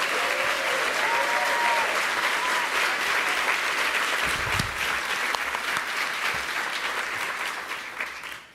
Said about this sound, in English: Please give that a round of applause.